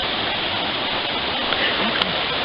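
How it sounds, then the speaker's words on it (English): A ten-foot waterfall on a small mountain brook beside the Mount Carrigain trail in New Hampshire gives a constant, close, hissing rush of falling water, with a couple of faint brief splashes. "There's a 10-foot waterfall."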